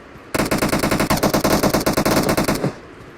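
A bot fires in the video game PUBG on the Erangel map: a loud, close burst of rapid automatic gunfire lasting a couple of seconds, then cutting off.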